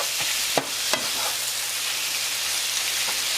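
Beef being stir-fried in a hot pan for a Vietnamese stir-fry with thien ly flowers gives a steady, close sizzle, with a couple of sharp utensil knocks early on.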